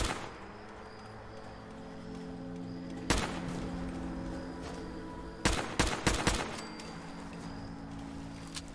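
Gunfire in Fallout 4: a single loud shot, then a rapid burst of several shots close together, sharp and close over a steady low game ambience, with one faint shot at the very end.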